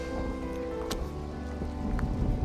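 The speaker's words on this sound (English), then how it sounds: "I'm officially in my happy place, sat on my little deck chair, in the rain. It's just spitting for now" Light rain spitting down around a treehouse in the hills of Chiang Mai, a soft steady patter with a few sharper drops landing close by, no voices.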